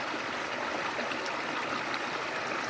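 A stream on the North Umpqua Trail flows nearby in a steady, even rush of water, with light gurgles and no other sounds.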